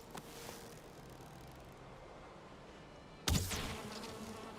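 Bees buzz around a cluster of beehives in a survival video game, a steady insect hum that swells into a louder, closer drone near the end.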